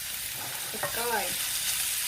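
Egg mixture for a basic egg soufflé is stirred in a pan over a continuous hiss of gentle frying, with a brief squeaky scrape midway, close and fairly quiet.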